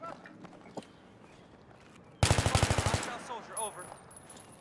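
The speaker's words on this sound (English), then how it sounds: "He's got a machine gun in bomb." Rapid machine gun bursts crackle in Battlefield 3 on the Metro map, a loud rhythmic string of about a dozen close shots over a second, followed by softer footsteps and game noise.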